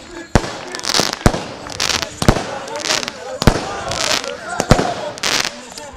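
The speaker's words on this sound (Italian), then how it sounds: "Mentre ci sono anche i fuochi d'artificio al centro sportivo Maracanà." Fireworks go off at a sports centre celebration after a trophy presentation, a series of sharp loud bangs and crackling bursts repeating every second or so over crowd noise and commentary.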